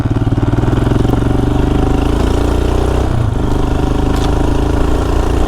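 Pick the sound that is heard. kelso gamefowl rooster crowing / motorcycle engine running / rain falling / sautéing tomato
motorcycle engine running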